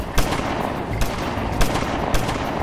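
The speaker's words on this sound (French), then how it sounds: "Et il tire 13 coups de feu sur un client" Gunshots fired in a bar ring out as four sharp, loud reports at roughly even intervals over a heavy rumbling background, with no talk.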